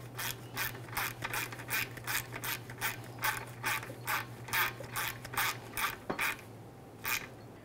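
Ratchet wrench snugging up an A/C line nut on a 2010-2013 Ford Transit Connect condenser, a close run of quick rhythmic clicks in short bursts, with no talk.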